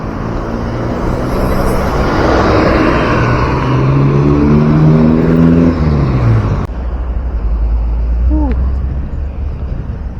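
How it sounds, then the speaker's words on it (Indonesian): Trucks carrying fill soil drive in and out of a flyover construction site on a toll road, giving a steady loud engine rumble that swells as a vehicle passes close by and then drops to a lower hum. "kita lihat kendaraan truk yang bawa tanah timbunan ya keluar masuk ya di sana teman-teman"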